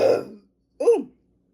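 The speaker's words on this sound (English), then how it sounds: "I'm burping" Two short throaty burps after drinking Sunkist mango orange soda, close and loud, separated by a brief silence, with the second one deeper and more resonant.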